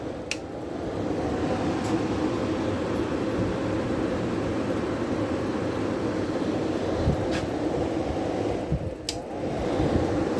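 Steady loud broadband whoosh and hum of a 1992 Amana Cool Zone air conditioner on medium fan, constant airflow with a few faint clicks, no talking.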